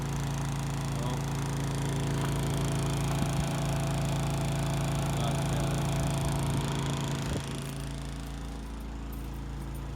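A small portable generator powering a cooking setup beside a van runs with a steady mechanical drone and hum throughout, easing slightly lower near the end.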